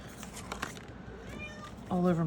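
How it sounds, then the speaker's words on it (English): A house cat meows near the end, wanting to go out on a summer night, its call rising over steady talking and the soft rustle of paper crafting indoors. "And please excuse this cat. It is night and it's summer. He wants to go out and get the critters"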